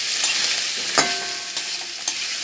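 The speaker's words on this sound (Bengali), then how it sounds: "আমি দিয়ে দেব আলু আর আমার সেদ্ধ করা নিউট্রিলাটা দিয়ে একটু নেড়ে" Potatoes and boiled soya chunks stirred in a hot pan, with a close, steady sizzle of frying under a few sharp scrapes and clinks from the spoon, and no talking.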